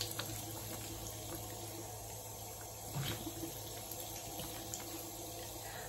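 Cold water runs from a tap as a face is rinsed, a steady close hiss of flowing water with a brief splashing burst near the middle and no speech.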